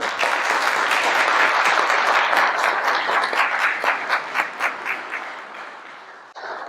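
An audience at a political forum gives a sustained round of applause, dense clapping that stays loud for several seconds before thinning into scattered claps and fading.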